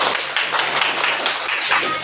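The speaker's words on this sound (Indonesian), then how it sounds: "Tepuk tangan dulu untuk teman-temannya." A classroom full of students clapping for their classmates, giving a steady, dense spatter of applause that lasts a couple of seconds with no talking over it.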